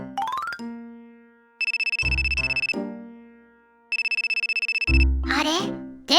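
A telephone bell rings in two rapid, trilling bursts, each about a second long, loud and close, with a voice speaking before and after the rings.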